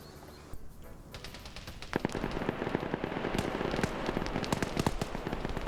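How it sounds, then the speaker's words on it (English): Arma .50 cal machine gun fire rattles in dense, rapid bursts of loud cracks that build and continue steadily, with scattered distant shots layered underneath. ".50 cal fire coming up and harassing this tree line"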